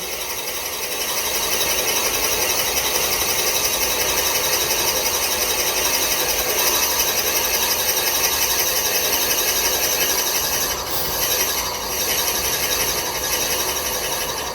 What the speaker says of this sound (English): I will drill right to the little notch right here at the top of the Forstner bit